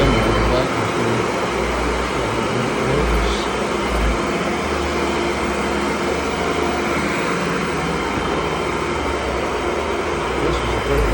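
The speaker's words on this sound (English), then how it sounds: "Do a demo of the vacuum cleaner." A Tennant vacuum cleaner runs continuously with a loud, steady motor drone and broadband suction noise across the whole stretch, with no pauses.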